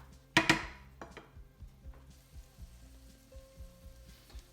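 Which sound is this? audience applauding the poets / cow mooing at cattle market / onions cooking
onions cooking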